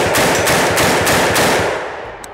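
Rapid string of AR-15 pistol gunshots fired through a muzzle device that vents blast out of side chambers, loud and close, in a continuous roaring burst that tapers off near the end.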